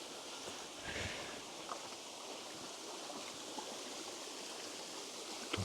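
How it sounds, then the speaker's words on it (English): Constant rushing water at a waterfall, a broad steady roar, with a few faint thuds and rustles nearby. "I'm going to show you this waterfall."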